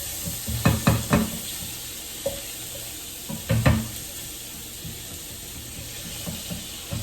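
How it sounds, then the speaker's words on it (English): A rubber spatula scrapes turkey bacon bits from a frying pan in a few clustered bursts of scraping and clatter over a soft, steady sizzle. "I scrape those little pieces that the turkey bacon leaves behind"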